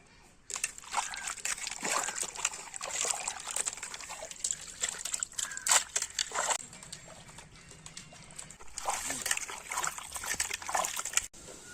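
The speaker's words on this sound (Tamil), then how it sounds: "வெட்டின கறியோட மஞ்சள் தூள் போட்டு நல்லா அலசிக்கலாம்." Cut chicken pieces washed by hand in water with turmeric powder, giving repeated sloshing, splashing and trickling in bursts, close and fairly loud, with a short pause midway before the washing resumes.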